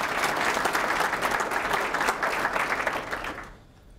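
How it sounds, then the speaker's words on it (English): Audience applause at a JROTC superintendent's breakfast, dense steady clapping that fades out near the end. "If you could also give her a round of applause."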